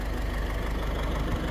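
A tractor engine idles on a ranch with a steady, close, low rumble and a continuous mechanical chugging, alone without talk.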